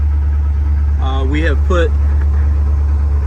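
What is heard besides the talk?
1980 Corvette engine idling while warming up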